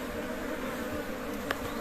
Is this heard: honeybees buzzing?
yes